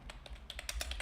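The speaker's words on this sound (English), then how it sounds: "So let me type that out." Quick light clicks of typing on a computer keyboard, around a dozen soft taps in an irregular rhythm, close and quiet with no voices.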